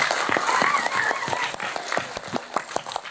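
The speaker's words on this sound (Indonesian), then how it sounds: "Tepuk tangan untuk Jatilawang" Audience applause at a religious talk in Indonesia, a crowd clapping in quick irregular bursts for about three seconds, dense at first and thinning out toward the end, with a faint voice underneath.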